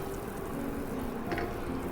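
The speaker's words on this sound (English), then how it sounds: "Now the water start boiling" Water bubbles and simmers in a pot with pork belly blanching in it, a soft, continuous, fairly quiet churning with small irregular pops.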